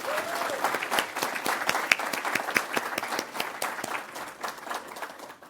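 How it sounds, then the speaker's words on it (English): An audience applauds at a digital inclusion awards ceremony in Nova Scotia, sustained crisp hand clapping from a roomful of people that tapers off toward the end. "So let's give a round of applause to Jenny Boone."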